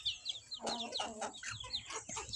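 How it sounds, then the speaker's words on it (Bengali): Desi chickens cluck in a backyard flock, with a quick run of close, soft clucks and chirpy calls overlapping over a couple of seconds against a faint background. "আমার দেশি মুরগিগুলা"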